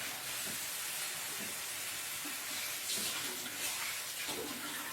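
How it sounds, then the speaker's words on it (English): Steady rushing of tap water pouring into a pan, a continuous broadband hiss with no talking. "And then we're going to fill our pans up."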